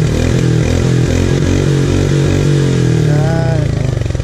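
A Royal Enfield Meteor 350cc motorcycle idles and revs nearby, a loud, deep, bassy thumping exhaust with steady rhythmic pulses throughout.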